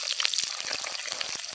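Chopped shallots with dried red chilies sizzle and crackle in hot oil as a tempering for a village-style curry, a dense close hiss with small pops.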